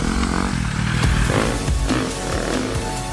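A Husqvarna enduro motorcycle rides loud and close on extreme terrain, its engine droning and revving continuously with clattering overtones and no talk.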